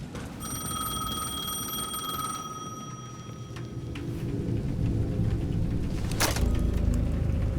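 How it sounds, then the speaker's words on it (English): A payphone bell in the video game Alan Wake 2 rings in repeated steady bursts over a low rumbling ambient background, with a sharp crack near the end. "The payphone at the edge of the plaza was ringing again."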